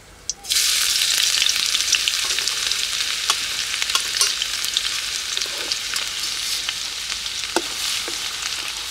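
Chopped garlic dropped onto dried red chilli in a little hot oil sizzles loudly in a village kitchen, a steady close frying hiss that jumps in sharply at the start, with occasional crackles and pops and no talking.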